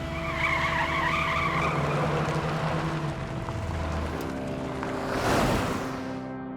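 Jeep in a dubbed South Indian action movie roars off with skidding tire squeal and a rising engine rush, loud and sustained, ending in a whooshing surge.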